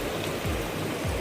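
River water rushes steadily through Rangala natural pool on the Kota Ganga near Kandy, Sri Lanka, a dense, close, even roar of flowing water with no talking.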